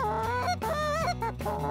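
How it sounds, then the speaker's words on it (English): A short reed goose call blown in a series of loud, close honks and clucks with a reedy tone, several rapid notes back to back without speech. "It's a real good sounding short reed goose call"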